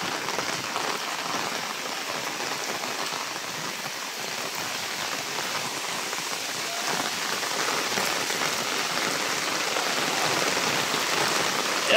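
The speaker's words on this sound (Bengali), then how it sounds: "এত পরিমাণে বৃষ্টি হচ্ছে" Heavy rain falls steadily across a village, a dense, even hiss of drops on surfaces that holds unbroken and grows slightly louder toward the end.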